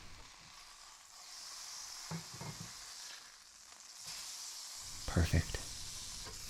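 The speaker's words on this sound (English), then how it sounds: "I love that nice brown on there, sizzling and all the fat that's come out." Chorizo sausage sizzles and browns in a frying pan for a choripan sandwich, a steady frying hiss with a few louder crackles and stirring bumps near the end, and a voice speaks briefly.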